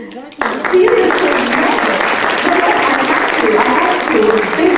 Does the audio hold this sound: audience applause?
yes